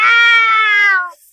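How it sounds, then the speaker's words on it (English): A loud cat screech used as a horror-film ghost sound effect, one sustained harmonic yowl lasting just over a second before cutting off sharply, heard alone and close. "when he opens his mouth, it's a cat screech that you hear."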